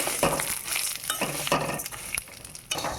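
Vermicelli (semai) stirred and fried in a pan, half-fried and given more time over the heat, with steady sizzling broken by repeated scraping strokes of a spoon against the pan, close and fairly loud.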